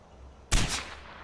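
A single sharp gunshot in the video game Far Cry 4 bursts out suddenly, loud and punchy with a brief trailing rumble, then fades into quiet.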